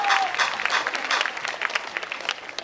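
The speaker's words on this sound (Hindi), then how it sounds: "तालियां बजाओ" Audience at an anniversary stage event claps in a lively, uneven burst of applause with distinct individual claps standing out, moderately loud and gradually thinning toward the end.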